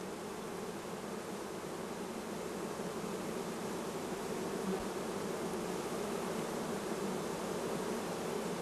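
Honey bees buzz steadily at an open hive, a dense, continuous drone that stays close and even from start to finish with no voices.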